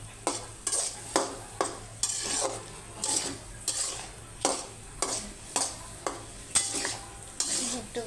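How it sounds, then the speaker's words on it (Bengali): Dried fish with salt, turmeric and chili powder is stirred and fried in a pan, with regular scraping strokes of a spatula repeating about once a second over a low, steady sizzle. "দিয়ে দিলাম স্বাদ মতন লবণ, হলুদের গুঁড়া, মরিচের গুঁড়া দিয়ে আমি ভালো করে লাড়াচাড়া দিয়ে একটু কষিয়ে নেব"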